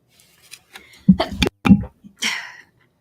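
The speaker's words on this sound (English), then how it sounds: "Sorry, I just sneezed." A single close sneeze with a sharp inhale buildup and explosive release, followed by a breathy exhale.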